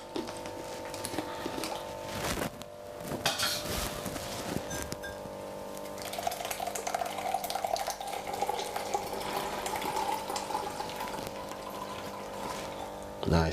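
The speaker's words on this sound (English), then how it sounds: "what we're going to do now is run it through our strainer just like this" Ginger lemon water running through a kitchen strainer, a steady watery trickle and splash that carries on for the whole stretch with some clatter near the start.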